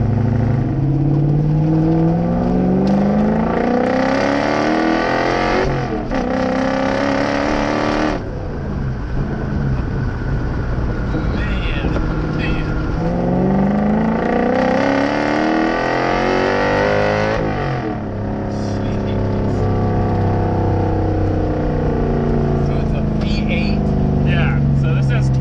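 A drift truck with a side-exit exhaust revs and accelerates in repeated rising pulls, its engine note climbing loudly from close inside the cab, with talk running over it.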